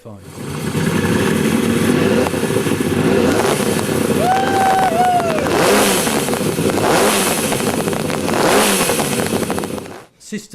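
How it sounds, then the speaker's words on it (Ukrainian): A homemade multi-cylinder motorcycle engine runs steadily and loudly throughout, with rising revs and a wavering whine, cutting out abruptly near the end. "і двигун запрацював наповну."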